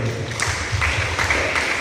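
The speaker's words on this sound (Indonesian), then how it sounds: "Kasih tepuk tangan buat mereka" A small group of students in a classroom claps in a brief, dense, fairly loud burst that stays steady throughout.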